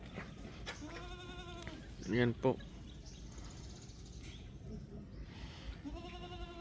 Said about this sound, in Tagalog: Ganyan na po yung population natin ng ating kambing.